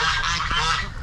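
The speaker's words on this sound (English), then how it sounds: "All the ducks and geese are a little happy today." Farmyard ducks and geese honk and squawk together in a brief, loud, close burst of overlapping calls.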